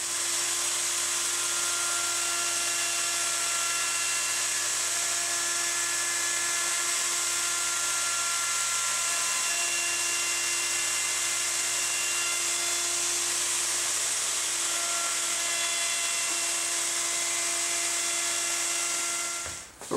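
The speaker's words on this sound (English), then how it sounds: "that's what we're going to use to round over the edges of the body" A router with a 3/16-inch round-over bit cutting along the body edges of a Gibson Les Paul Junior style electric guitar, a loud, steady high-pitched whine held for about twenty seconds before stopping abruptly.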